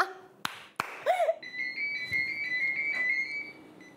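A telephone rings in a studio setting, a steady electronic ringing tone that starts after a few sharp claps and continues alone at moderate loudness for about two seconds.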